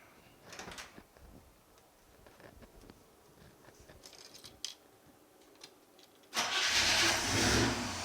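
A 1965 Chevrolet Malibu SS with a small-block 350 V8 goes through a few faint, halting clicks and cranking attempts, then suddenly catches and roars into a loud, rough-running idle close by.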